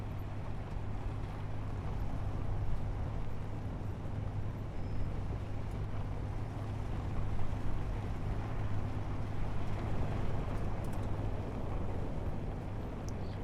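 In the game Space Engineers, a vehicle drives across a player-built bridge with a steady, low engine hum and rumble that stays even throughout, without talk.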